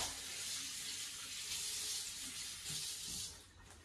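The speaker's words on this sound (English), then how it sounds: "Wash my hands really quick." Kitchen tap water runs steadily into a sink as hands are washed, a close, continuous hiss that fades near the end, with no talking.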